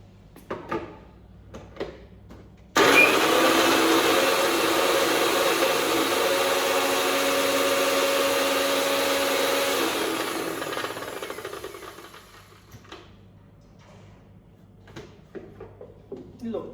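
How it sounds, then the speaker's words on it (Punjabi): A mixer grinder starts abruptly and whirs loudly for several seconds before winding down, with faint talk and clatter before and after. "ਇੱਕ ਵਾਰੀ ਮੈਂ ਫੇਰ ਮਿਕਸੀ ਮਾਰੂੰਗੀ"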